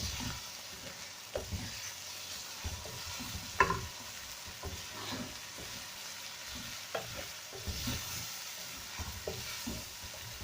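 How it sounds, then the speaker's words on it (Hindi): Chicken pieces frying in oil in a pan while being stirred and scraped, a quiet continuous sizzle broken by irregular clinks and scrapes of the spoon, heard close with no talking. "अब हम इसके अंदर चिकन भी डाल देंगे ताकि ये भी अच्छे तरीके से भुन जाए"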